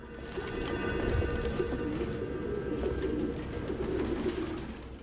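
Flock of pigeons cooing steadily in the video game Detroit: Become Human, a soft continuous murmur of overlapping calls at moderate distance, with no talking.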